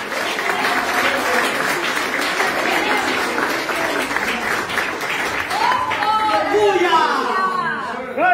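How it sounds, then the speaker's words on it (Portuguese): A church congregation applauds strongly during a Portuguese-language worship service, loud sustained clapping mixed with voices calling out, with shouts and cheers rising toward the end. "E eu quero agradecer essa rica oportunidade, das palmas, bem forte ao Senhor Jesus."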